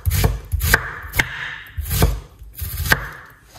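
A knife cuts through a white onion on a board in a home kitchen, giving five or six close, solid thunking chops in an uneven rhythm, with no voice.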